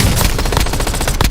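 Rapid automatic gunfire in the video game Warzone, a dense burst of about a dozen loud, close shots in quick rhythm before it cuts off.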